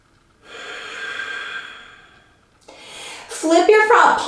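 Slow, deep breaths are drawn in and let out through the nose during a yoga pose. The inhale and exhale sound close and airy, and a voice starts speaking over the last breath.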